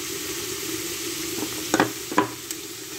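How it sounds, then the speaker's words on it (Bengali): Chicken with black pepper being stirred in a pan, a low steady sizzle beneath with a few sharp spoon scrapes and clacks toward the end; no one speaks. "তারপর এটাকে আমি আবারও ভালোভাবে নেড়ে চেড়ে নেব।"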